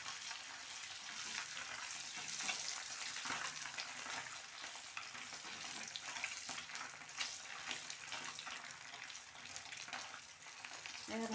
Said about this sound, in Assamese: একদম লাইটকৈ ভাজিব লাগিব